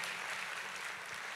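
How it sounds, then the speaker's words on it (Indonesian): Church congregation applauding during a sermon, a dense, steady wash of many hands clapping together without pause, moderately loud and even throughout. "tepuk tangannya yang paling meriah buat Yesus Tuhan kita."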